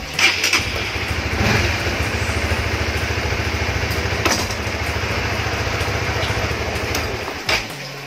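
A Honda Supra GTR 150 motorcycle cranks with the clutch lever pressed and starts, then settles into a steady, close, rhythmic idle. There is a short burst of revving near the end.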